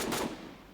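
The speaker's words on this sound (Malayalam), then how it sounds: "വെടി വെക്കുന്നുണ്ടല്ലോ" Gunfire in a Free Fire ranked Battle Royale match sounds as a brief, loud burst of rapid shots in the first quarter second, then fades into a dull, decaying tail.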